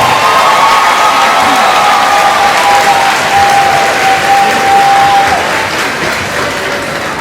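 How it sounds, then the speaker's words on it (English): A large commencement crowd at a university graduation applauds loudly and steadily, a dense wash of clapping with scattered cheers and whoops that continues for several seconds. "let's give them another round of applause"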